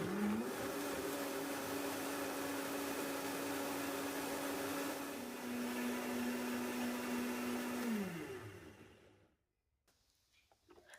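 A blender purees chilies, garlic, oregano, cumin and beef broth, its motor whirring steadily for about eight seconds with a brief pitch shift midway before spinning down to near silence.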